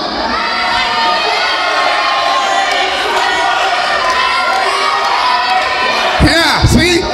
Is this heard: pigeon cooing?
no